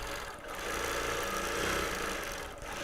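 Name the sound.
quilting machine stitching a quilt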